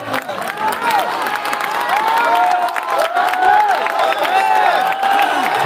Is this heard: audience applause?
yes